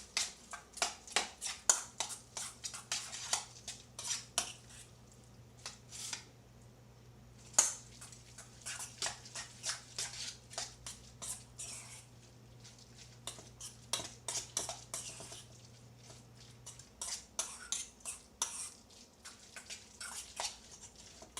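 Old Bay and pepper seasoning being mixed in a bowl, with a steady run of quick clinking and scraping taps, close and fairly quiet, pausing briefly now and then.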